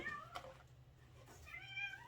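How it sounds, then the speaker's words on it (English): A cat meows faintly in the background, two drawn-out cries, one near the start and another toward the end, over a quiet room. "Sorry if you hear my cat in the background."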